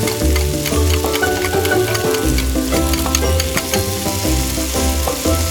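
Potatoes and carrots frying with garlic in hot oil in a pan, a loud continuous sizzle and crackle with steady stirring throughout.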